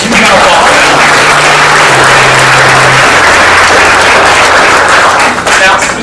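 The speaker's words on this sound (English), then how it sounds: "Yes, huge round of applause." Dense, loud audience applause filling a hall, continuous and close throughout, with a faint low hum underneath and no talk over it.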